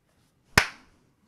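A single sharp hand clap rings out close to a microphone, loud and alone, with a short decaying tail into silence.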